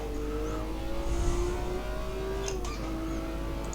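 A BMW M1 race car in a sim racing game laps the Monaco street circuit; its engine drones steadily at high revs, with a brief pitch dip as it shifts near the start-finish line, heard close and alone.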